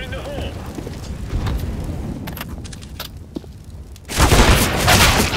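A grenade detonates in a CS:GO match on de_cache, a loud broadband blast bursting in near the end after a stretch of busy gameplay noise and scattered shots, with players talking over it.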